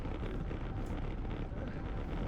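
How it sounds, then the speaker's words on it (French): Wind buffets a microphone during a cycling time trial, a loud, dense, continuous roar with no breaks, steady throughout and masking any other sound. "il y a un petit peu de vent"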